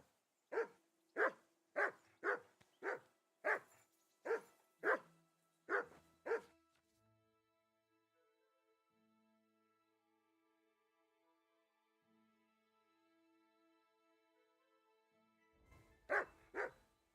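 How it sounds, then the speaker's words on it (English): A dog in Kingdom Come Deliverance II lets out a rapid run of about nine loud, close barks, then falls quiet under a faint ambient drone before two more barks break in near the end. "That barking was a pain in"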